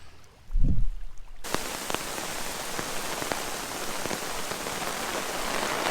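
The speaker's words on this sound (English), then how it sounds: "Rain time." Steady rain pours down across a surface in the backcountry near Maple Mountain, Temagami, after a brief low thump, a dense, even hiss of drops with occasional sharper patters, close and continuous.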